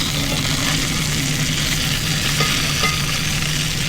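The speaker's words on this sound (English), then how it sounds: "This cast iron press has been a game changer for making a really nice sear." Food searing under a cast iron press while cooking in a van, a loud, continuous dense sizzle close up with a faint low hum beneath and no talk.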